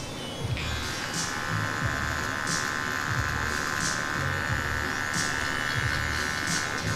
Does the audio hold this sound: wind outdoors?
no